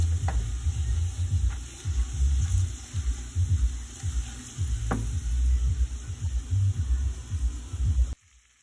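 Curry sauce with chickpeas sizzling and frying in a pot while a spoon stirs and scrapes through it in irregular strokes, a continuous close hiss with low bumping knocks.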